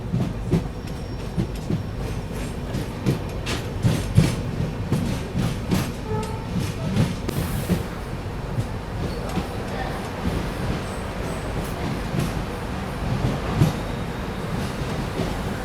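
A Humsafar Express rolls along the rails, heard from inside a third AC coach: a continuous low rumble with repeated clickety-clack wheel beats and a brief high squeal partway through.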